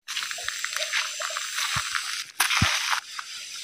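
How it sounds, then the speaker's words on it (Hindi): Water trickling down from a mountain makes a close, steady hiss of running water, with a few soft crunching footstep-like thumps in between. "पहाड़ का ऊपर से पानी निकलता है देखो"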